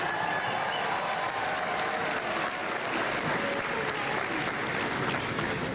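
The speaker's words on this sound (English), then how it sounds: "please give them a round of applause" A pep rally crowd applauds the spirit squad and dance team in a dense, unbroken roar of clapping that stays loud and even throughout.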